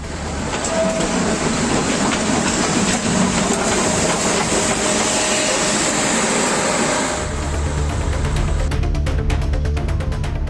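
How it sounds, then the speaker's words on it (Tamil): A mountain train on the line between Mettupalayam and Ooty rumbles steadily and loudly up close, with continuous rolling wheel noise and rattling carriages throughout, no voices. "மேட்டுப்பாளையம் உதகை இடையே சிறப்பு மலை ரயில் இயக்கப்பட உள்ளது"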